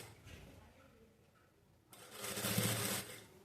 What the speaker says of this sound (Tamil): இந்த ஓரத்துலேயே வந்து அப்படியே தையல் வந்து நான் போடுறேன்.